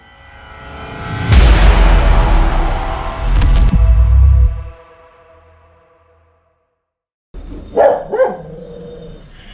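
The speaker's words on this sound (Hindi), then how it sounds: "किसको भौंक रहे हो तुम?" A dog on a rooftop barks loudly and close, a couple of sharp booming barks followed by a pause and then a few quieter yips and barks; no talking.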